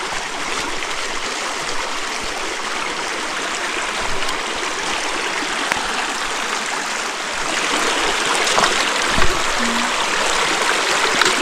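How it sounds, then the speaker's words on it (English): Stream water flows steadily at a trail water crossing on a mountain scout trail, a continuous close rushing and splashing that swells slightly louder toward the end, with no talk. "Of course, another water crossing."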